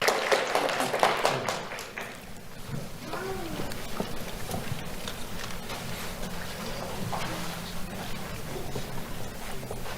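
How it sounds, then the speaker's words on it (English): An audience applauds an award recipient at a community awards ceremony, with brisk clapping near the start that then settles into softer, sustained clapping and room murmur. "Let's have a round of applause for Adrielle Louisant."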